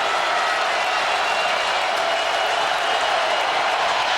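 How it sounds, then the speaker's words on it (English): Steady, loud roar of a college football stadium crowd cheering and applauding as a game between UConn and Virginia nears a deciding field goal attempt, a dense wash of noise throughout. "Now the crowd turning up the heat and the volume."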